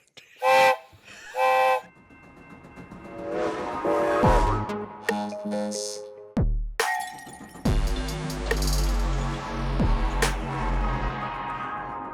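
A train whistle sound effect plays in a podcast segment, with two short toots followed by longer, louder sustained whistle blasts mixed with crashing, clattering noises, all close and prominent.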